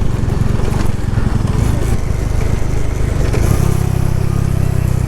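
Xpulse motorcycles ride off-road on the rough Padum to Leh route in Ladakh, a loud, close, steady engine drone that shifts in pitch partway through.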